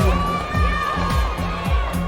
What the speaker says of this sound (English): You can hear the crowd getting a little rambunctious out there, cheering everybody on.